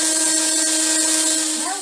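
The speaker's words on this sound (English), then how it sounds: "you have to drill a little hole in the corner so the cable can go in" A power drill bores a small hole in the corner of a homemade go-kart frame for a cable, giving a steady, close, high-pitched whine that holds throughout and eases off at the end.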